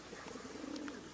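A racing pigeon gives a soft, low coo at close range while being handled, faint and brief with no speech.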